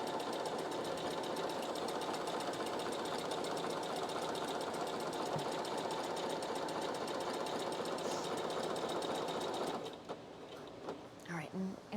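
A sewing machine stitches cosplay fabric in a steady, rapid mechanical whir that runs nearly nonstop for about ten seconds, then stops, leaving a few softer handling sounds at the end.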